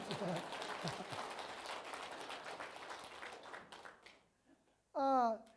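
Audience applause at a church elders' and lay leaders' retreat lecture, a dense round of clapping that fades out, followed by a brief loud voice at the end.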